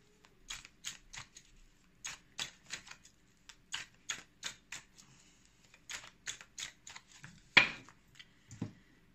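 Tarot cards being shuffled and mixed by hand, a string of crisp, dry card slaps and flicks arriving in quick irregular bursts, with a louder snap near the end and no talking.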